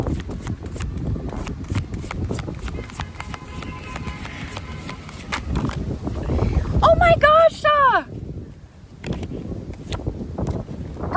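Outdoor wind buffets the microphone as a steady low rumble and rush that runs the whole time, with a brief voice-like sound partway through.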